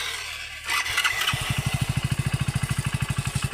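A motorcycle engine kicks into life after some low rumbling, then settles into a steady, rapid idle close by.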